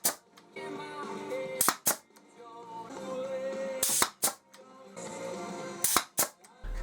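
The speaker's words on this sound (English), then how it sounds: "Then I fired in some brad nails." A brad nailer fires brad nails into a salvaged oak frame for a herringbone coffee table, sending out sharp, loud pops in quick pairs with pauses between, over steady background music.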